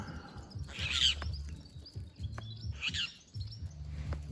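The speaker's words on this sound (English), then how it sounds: "They're very friendly birds." Friendly wild birds chirp in the Australian outback, with a few bright, short calls rising above a low, rhythmic rumble, probably a vehicle engine idling nearby; no voices are heard.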